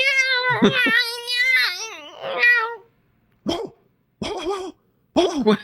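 A voice imitates a dog, first with drawn-out yelping howls, then a pause followed by three short, sharp barks.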